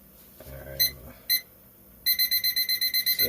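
A digital kitchen-style timer being set for 30 beeps a few times with single chirps amid faint handling noise, then breaks into a fast, regular run of loud alarm beeps.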